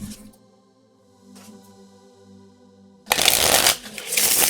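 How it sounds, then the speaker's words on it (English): A tarot card deck being shuffled by hand, a loud close riffling burst of crisp card flicks after a quieter stretch of low background hum. "So we're going to shuffle this deck up real quick."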